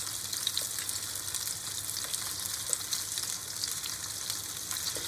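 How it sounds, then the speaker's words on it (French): Small meat rolls (Fleischschnaka) fry in a pan with a steady, crackling sizzle and scattered pops, close and fairly quiet, with no talking. "Je retourne les petits rouleaux que je vais faire griller également."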